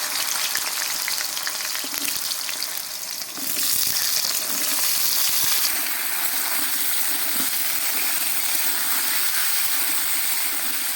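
Five-spice tempering and mixed vegetables frying in hot oil for a vegetable bhaji: a steady, loud, close sizzle with a bright hiss that swells as more food goes into the pan, continuing without talk.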